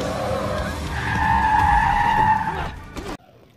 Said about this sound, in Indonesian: Barry Ken berubah menjadi mobil dan mengejar Sam sampai jauh dari penduduk